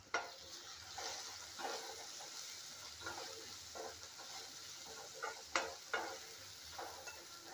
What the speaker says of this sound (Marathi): आता ह्याला आपल्याला 1-2 मिनिटं आपल्याला हा कांदा परतून घ्यायचा आहे